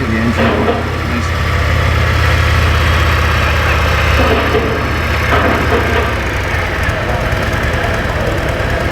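A motorbike engine running near a ferry terminal at Brodick, a steady close low rumble with idling throb and some vibration, continuous for the whole stretch with no clear start.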